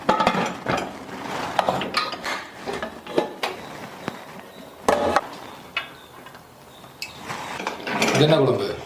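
Metallic clatter and clicks of a pressure cooker lid being fitted and locked shut over rice left soaking in water with salt, a series of sharp knocks and scrapes with a louder rattling burst near the end.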